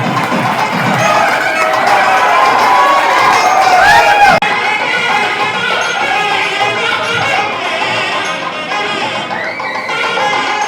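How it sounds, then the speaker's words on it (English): A college appreciation ceremony audience rises in a standing ovation, loud crowd noise with cheering and shouts blending into clapping, continuous and close, with voices chattering through it. "Let's give a standing ovation also. All of you stand up and give great clap."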